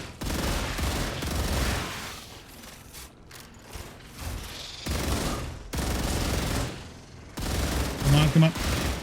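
Gunfire in the video game StarRupture: rapid, crackling bursts of shots come in several waves, loud and close, with mechanical clicks between them.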